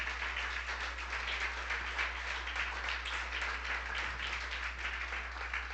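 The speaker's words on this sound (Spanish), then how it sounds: "¿Le puede dar un aplauso al Señor, hermano, fuerte?" Steady applause from a church congregation, a dense continuous wash of clapping hands filling the room at moderate level, with no voices standing out.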